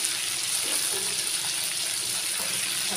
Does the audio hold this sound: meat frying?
yes